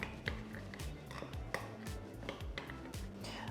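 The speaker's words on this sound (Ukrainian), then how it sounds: "Ну і розмішую, робимо густу сметану." A spoon stirs thick yeast batter of flour in a bowl, its steady scraping and tapping repeating about twice a second over a faint background hum.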